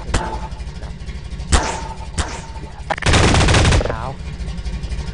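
Weapon fire in the Garry's Mod video game: a few sharp, loud single shots spaced apart, then a dense burst of rapid fire lasting under a second, with a voice faintly present.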